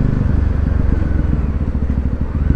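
Voge 300R motorcycle engine running steadily close by, a low rumbling pulse with a slight irregular clatter as sixth gear is selected at low speed, no voices.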